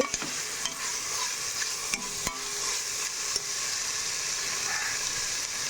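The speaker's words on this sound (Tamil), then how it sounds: "ஒரு நிமிஷம் இப்படி நல்லா வதக்கிக்கோங்க, இஞ்சி பூண்டோடு சேர்த்து" Ginger-garlic paste sautés in a pan with a steady, close frying hiss, broken by a few faint clicks from the stirring spoon.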